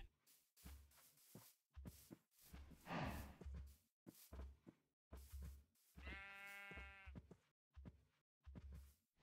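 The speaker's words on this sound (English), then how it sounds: "We got sheep too." A sheep bleats in a video game, one clear quavering call standing out midway among short game sound effects and footsteps, with no talk over it.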